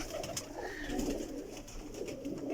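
Pigeons just out of their bath cooing in a continuous, close, soft rolling murmur with no voices.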